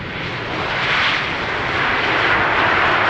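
A fixed-wing airliner lands on runway 18R at Amsterdam Schiphol, its engine roar a loud, steady broadband rush that swells slightly and holds throughout, with no voices.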